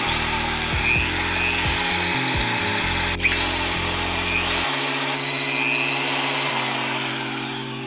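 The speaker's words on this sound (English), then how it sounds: "What I just did is drill a small hole in the seat tube where a cable housing can" A power drill bores a small hole in a bicycle frame's seat tube, its motor whining loudly and steadily with shifting pitch as the bit bites, then slowing toward the end, close and with no talk.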